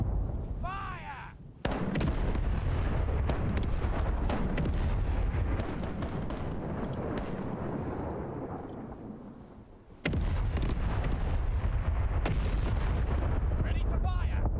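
Ship cannons firing in a sailing game, heavy booming broadsides that roll into long rumbling sustained thunder, with a second loud volley later, close and powerful, while a voice speaks at the start.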